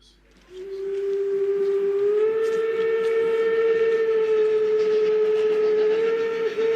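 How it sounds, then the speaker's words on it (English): A train whistle sounds as one long, sustained tone that swells in at the start and holds steady for several seconds, loud and clear with no talking. "You can hear the whistle blowing from Thurso to Dumfries."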